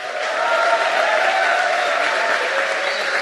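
Church congregation applauding as a worship minister is welcomed during a Korean Baptist church service, a sustained, even wash of crowd clapping filling the sanctuary throughout.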